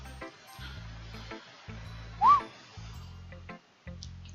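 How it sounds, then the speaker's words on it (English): A person gives a single short rising-falling whistle midway, loud and close, between bursts of game background music. "Don't know why I whistled there."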